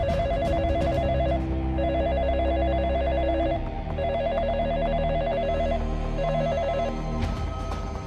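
A telephone bell rings in repeated bursts of trilling tones, loud and close, over a dense musical score in a television drama scene, with no voices.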